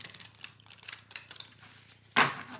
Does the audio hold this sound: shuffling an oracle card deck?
yes